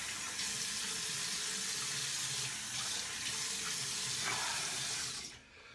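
A bathroom tap runs steadily for several seconds as a man rinses off after shaving, a dense broadband splashing into the sink that stops abruptly near the end.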